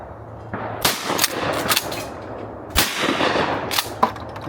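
Shotgun blasts at a sporting clays course, several sharp loud reports spaced irregularly, each with a short outdoor decay, no talking between them.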